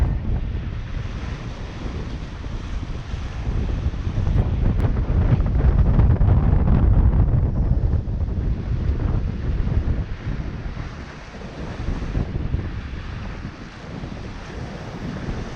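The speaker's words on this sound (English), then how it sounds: "I realized I have a very nice view of the waves through here." Ocean waves surge and wash in a steady roar, heard from aboard a Hallberg-Rassy 54 sailboat approaching Montserrat, with gusty wind buffeting the microphone throughout; the swell rises and falls.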